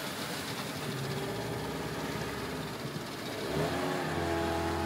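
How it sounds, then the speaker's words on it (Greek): A 15-horsepower outboard motor drives a small boat, running loud and steady throughout, its pitch climbing as the throttle opens near the end. "μηχανή 15 άλογα"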